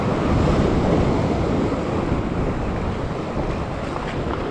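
Ocean waves crash and surge against rocks on a rocky shoreline during sea fishing near Sydney, a loud continuous roar of churning surf with wind buffeting the microphone throughout.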